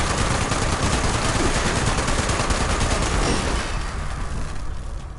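Heavy gunfire in Fallout 76, meant as shotgun fire, roars as a continuous, loud wash of overlapping blasts that thins slightly toward the end.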